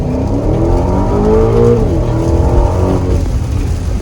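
A 2021 Aston Martin DBX in Sports Plus mode accelerates hard, its engine note rising through a gear and climbing again, loud and steady from inside the cabin.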